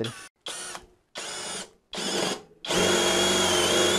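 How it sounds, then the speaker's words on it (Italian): Small 20V DEKO cordless drill driving a 13 mm Forstner bit into fir wood, three short whirring bursts separated by pauses, then a longer sustained loud run as the bit bores, close up and without talk. "è abete, quindi non è fortissimo, non oppone parecchia resistenza, ma punta Forstner 13 mm."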